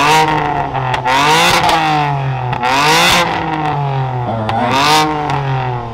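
A blue BMW at a large BMW car show revs its engine loudly and steadily, rising and falling in repeated sweeps over a continuous low rumble, close by.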